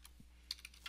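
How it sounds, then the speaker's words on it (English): Text being typed on a computer keyboard, a handful of quick soft key clicks, close and faint with no voice. "we're going to type in books"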